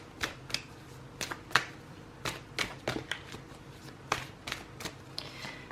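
Oracle cards being laid and covered on a table during a Fairy Lenormand reading produce a series of soft, close taps and papery slaps spaced irregularly, with no talk.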